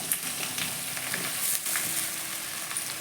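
Cut methi bajra muthiya being stirred into masala in a pan, a continuous frying hiss with a few soft scrapes and taps of the spoon, close and fairly quiet.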